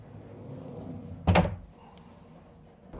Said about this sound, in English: the entire cabin or entire hall in this case can close with a sliding door